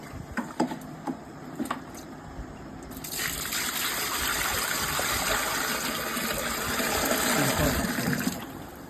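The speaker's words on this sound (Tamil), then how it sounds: "தண்ணி எடுத்து ஊற்றிருக்கோம்." Water gushes steadily into a tilting wet grinder after a few faint knocks, a loud continuous pour that runs for several seconds before tapering off.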